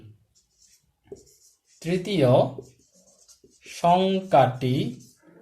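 Pen writing numbers on paper during a fourth-grade maths lesson, soft scratchy strokes between stretches of a teacher's voice talking.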